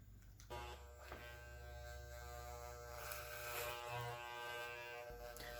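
Electric hair clipper fitted with a number 2 guard buzzing steadily while cutting a person's hair for a fade, a close, continuous motorized hum with slight shifts in pitch as it moves through the hair, no voices.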